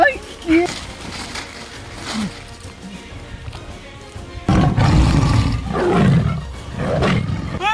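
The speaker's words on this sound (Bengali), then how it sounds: "ওই তো বাঘ, ওই বাঘ বাঘ।" Tiger roar sound effect, loud and near, a deep rumbling roar swelling in the second half after shouting voices, with people yelling around it.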